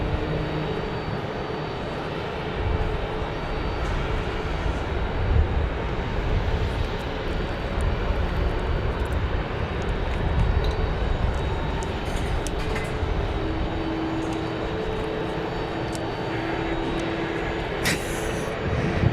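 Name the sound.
American Airlines Airbus A321neo jet at Phoenix airport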